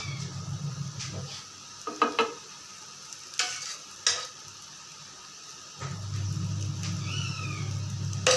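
Besan roti with ghee on a hot griddle, a steady sizzle and frying hiss with a few scraping and tapping sounds from turning the roti, heard close and alone.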